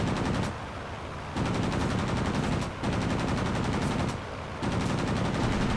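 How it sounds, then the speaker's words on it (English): Repeated bursts of fire from twin 7.7mm machine guns with incendiary bullets on a low-tier plane in World of Warplanes, loud and close, with short pauses between long rattling volleys. "Incendiary bullets, folks."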